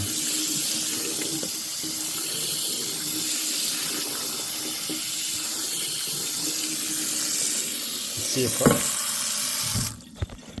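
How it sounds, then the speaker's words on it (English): Water runs steadily from a kitchen tap in a continuous splashing hiss as potatoes are rinsed beneath it, ending with a few clunks as it shuts off. "go ahead and give these a nice rinse"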